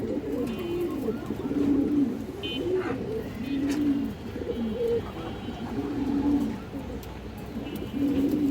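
Pigeons kept for flying coo steadily at close range, their soft rolling calls repeating in overlapping phrases over a constant background hum.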